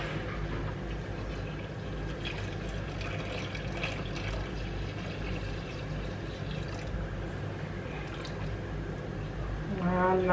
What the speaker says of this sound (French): je vais rajouter environ 800 g d'eau